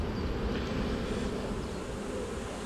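Dense, steady hum of a honeybee swarm at a hive, with a large cluster hanging beneath the colony, a continuous close buzzing drone that holds level throughout without pauses.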